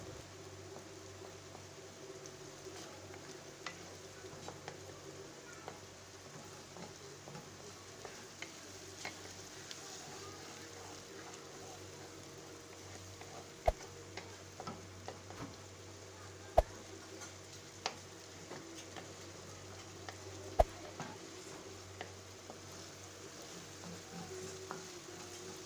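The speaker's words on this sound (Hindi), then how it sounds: "बहुत अच्छी तरह से इसको फ्राई करना है। फ्लेम मैंने तेज़ रखा हुआ है" Kaleji (liver) frying in a kadhai over a high flame gives a faint, steady sizzle that runs throughout, broken by occasional light ticks and scrapes of stirring.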